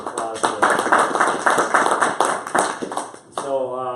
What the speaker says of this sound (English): we can give a round of applause for